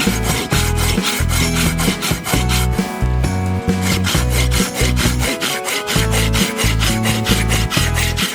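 A sharp Silky GomBoy 240 Japanese folding saw cuts through wood in fast, even strokes, a steady rasping back-and-forth rhythm with a brief pause midway, close and loud.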